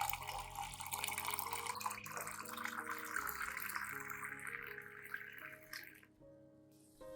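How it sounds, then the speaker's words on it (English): Clean water poured into a glass of diluted cinnamon powder solution, a close, faint trickling pour with rising tone as the container fills, ending in quiet drips. "Add 500 milliliters of clean water to dilute the cinnamon powder solution."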